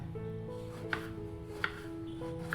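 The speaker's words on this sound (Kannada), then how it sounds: "ಒಂದನ್ನು ಈ ಥರ ರೌಂಡಾಗೆ ಕಟ್ ಮಾಡ್ಕೊಳ್ಳೋಣ" A knife cuts ridge gourd into rounds in a quiet kitchen. Three distinct chopping taps fall at roughly even intervals over a soft background hum.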